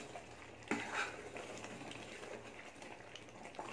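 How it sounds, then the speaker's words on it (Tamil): A spoon stirs chicken gravy (chicken kulambu) in a pot after a splash of sesame oil, giving faint scraping and a couple of soft clinks against the pot over low simmering background noise, with no talking. "அதனால இதை போட்டு நல்லா கிளறிக்கலாம்."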